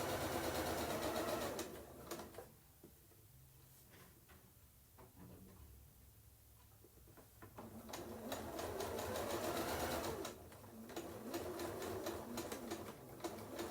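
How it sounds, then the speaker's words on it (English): A sewing machine stitches a back stitch on a candy corn colored placemat, a loud steady mechanical whir at the start, a quieter pause in the middle, then another long loud run of stitching. "And we will sew a little back stitch."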